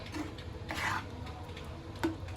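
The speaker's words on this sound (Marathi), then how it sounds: "आता आपण हे पनीरला मिक्स करूया।" A spoon stirs paneer and salt in a pan, soft scraping and rubbing strokes with occasional light metallic clinks, close and quiet with no talking.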